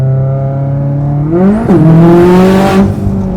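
Supercharged BMW E92 M3 roaring loud and close as the clutch drops, engine pitch climbing sharply, dipping briefly at the engagement, then surging on with a whining supercharger.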